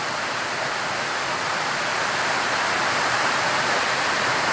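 Steady, heavy rain pouring down, a dense continuous hiss with no pauses, loud and close, no voices.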